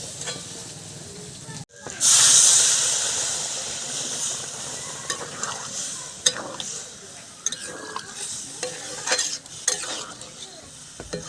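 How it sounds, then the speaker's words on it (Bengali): Water is poured into jackfruit curry that has been frying in a pan, setting off a sudden loud hiss that fades into bubbling and clattering stirs. "এবার আমি জল দিয়ে দিচ্ছি"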